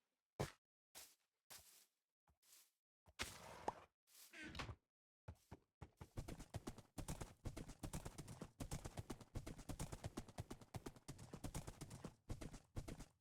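Horse hooves clip-clop in Minecraft, a few separate clops at first, then a fast steady run of hoofbeats, close and clear, with no talking.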